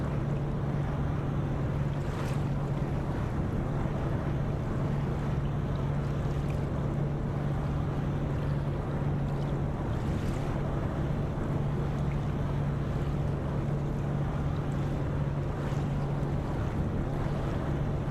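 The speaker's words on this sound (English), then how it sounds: "we'll just use our thrusters just to pull us around" Ship thrusters slowly pulling a big ship around in Ship Simulator (Nautic XP) on calm seas, a steady low mechanical hum running continuously under wind and water wash for the whole stretch, with no talk.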